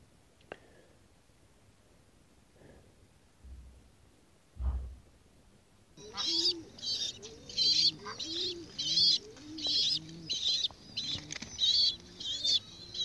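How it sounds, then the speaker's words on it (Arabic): Adult pigeons coo in soft repeated calls, joined by high chirping from nine squabs in a steady, close-up chorus after a quiet start. "دي مجموعة زغاليل يا جماعة"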